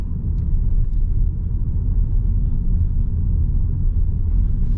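Steady low rumble inside a BYD Dolphin Plus electric car driving over bumps, road and suspension noise filling the cabin continuously and fairly loud, with no voices.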